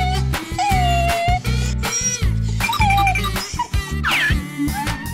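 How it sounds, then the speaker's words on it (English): Cartoon dog yips and whimpering barks come in short bursts over loud, upbeat children's music with a thumping beat, with no talking. "Dog."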